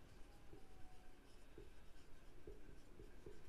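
A pen writes on paper during an accounts ledger lesson, with steady scratchy strokes and a few soft taps at the page, close and quiet against a low background hiss.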